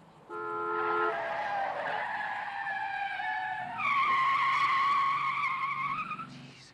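A car skidding in a scene from Back to the Future Part III: one long tyre squeal with sliding pitch, then a second louder, brighter squeal, close and with no talk over it.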